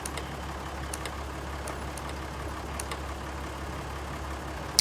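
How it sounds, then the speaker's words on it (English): A tractor engine idles in Farming Simulator 19 as a steady low, droning rumble that stays constant and close, with faint light clicks above it and no talk. "Sounds like almost like a default tractor."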